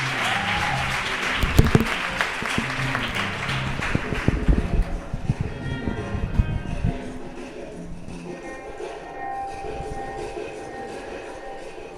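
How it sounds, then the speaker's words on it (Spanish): An audience at a poetry slam in Iruñea applauds a performer, with fairly loud clapping and some louder claps early on that thin out and fade over the clip, leaving a quieter room tone. "Circe, un aplauso para ella."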